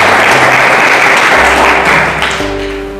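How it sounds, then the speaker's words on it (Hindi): A church congregation claps loudly and steadily to praise God, a thick wash of hands that slowly fades while a low hum and sustained tones rise at the end. "ताली बजाकर खुदा की महिमा करें।"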